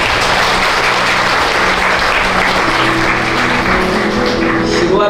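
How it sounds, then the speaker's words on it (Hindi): A church congregation applauds loudly and continuously, a dense, even roar of clapping close by with faint tonal hum underneath. "दिल से तालियां बजा दीजिए।"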